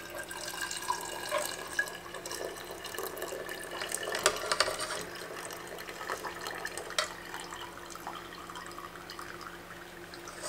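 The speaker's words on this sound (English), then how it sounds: "strain this into a clean, sterilized quart jar" Elderberry syrup strained into a clean, sterilized quart jar, giving a soft continuous trickle and splatter of liquid with a few brighter drips and clinks, fairly quiet and without talk.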